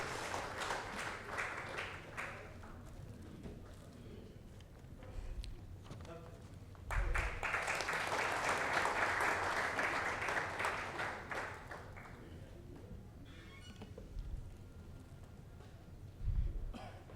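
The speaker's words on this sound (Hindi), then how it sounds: "जोरदार तालियां अमित सर के लिए।" An audience at an awards show claps in bursts, with a stronger swell of applause in the middle, broken by quieter stretches with scattered claps and coughs.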